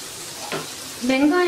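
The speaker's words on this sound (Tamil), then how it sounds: "நல்லா வந்து இதை வதக்கிடுவோம்" Garlic and onion sauté in a hot pan, giving a short, soft sizzle with a stirring scrape close by.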